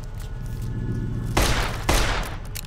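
Two sharp bursts of gunfire from the video game Fallout New Vegas, loud and close, over a low background game rumble, with no speech.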